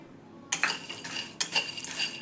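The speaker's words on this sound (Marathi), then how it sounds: "आता आपण चणेसुद्धा सालासकटच ड्राय रोस्ट करून घेऊयात" Whole chickpeas with skins dry roasting in a metal pan, close up: a few sharp rattling scrapes and clinks of a spoon stirring, in two short bursts with quieter rustling between, no talk.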